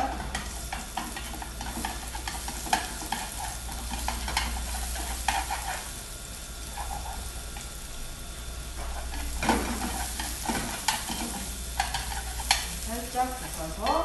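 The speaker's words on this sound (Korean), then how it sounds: "절여진 오이는 키친타올을 이용해서 이렇게 수분 제거를 해서 기름 두른 팬에 살짝 볶아주겠습니다" Salted cucumber, patted dry, stir-fried briefly in an oiled pan, giving a continuous close sizzle and hiss with scattered scraping and clinking of a utensil, steady throughout, with no talking.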